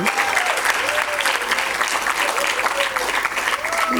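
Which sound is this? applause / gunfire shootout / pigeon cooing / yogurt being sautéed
applause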